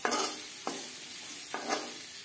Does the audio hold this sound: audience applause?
no